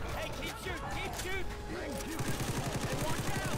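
Gunfire in a video game shootout, rapid bursts of shots with whooshing and ringing effects that speed into a dense rattling stream, heard under loud continuous game sound.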